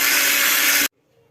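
A loud electric mixer whips cream steadily at high speed, close by, then cuts off abruptly, leaving near silence.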